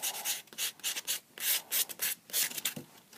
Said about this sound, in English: I'm going to go in with my buffing block because I want this to be a nice